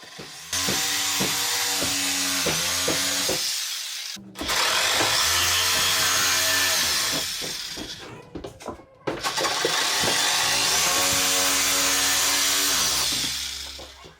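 A power tool whines through wood in three long bursts, cutting squares for a cabinet kick plate, each cut revving loudly then winding down, with short pauses between.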